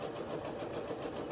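A sewing machine runs in a steady continuous whir while stitching fabric, holding an even, close hum for the whole stretch with no talk over it.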